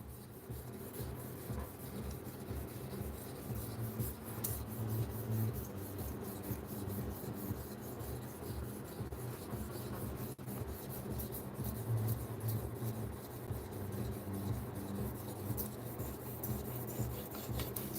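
S90V steel knife blade stroked back and forth across a sharpening stone, a steady close gritty rasping in even repeated passes, quiet and continuous with no talk.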